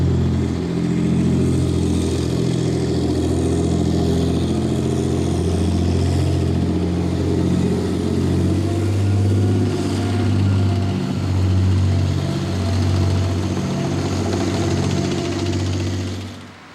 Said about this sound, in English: They make tanks here like this Challenger 2